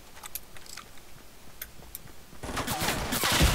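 Gunfire in a Fortnite match, a series of sharp shots scattered through the first seconds, then a louder, dense burst of rapid fire building near the end.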